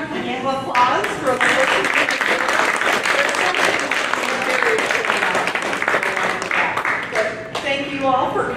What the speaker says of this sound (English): let's give another round of applause for